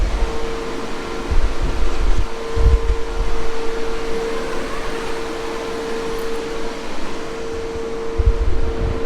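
Intake fan of an inflatable paint booth drawing air through its inlet filter, a steady close whooshing drone with a faint tonal hum and occasional low buffeting, no voices.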